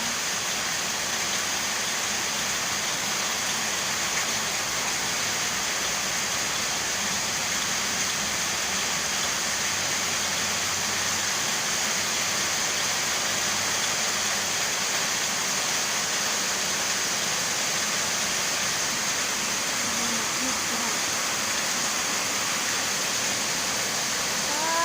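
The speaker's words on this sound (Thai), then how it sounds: "ฝนตกแห้งนี่แล้ว" Heavy rain pours down in a steady, dense wash of noise that holds evenly for the whole stretch, like a downpour drumming on surfaces nearby, with no clear voices over it.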